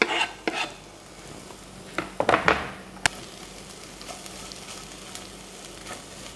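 Ginger and garlic go into a pan of onions cooked down for lamb rogan josh, sizzling in a low steady hiss broken by a few sharp scraping stirs and clinks early on, with no talking.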